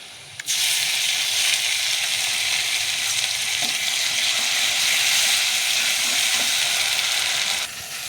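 Onions frying in a kadai, a loud, continuous broadband sizzle that starts abruptly and holds steady for several seconds with faint stirring scrapes, then drops off near the end, no voices.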